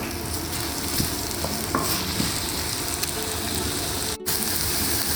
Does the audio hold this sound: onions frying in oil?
yes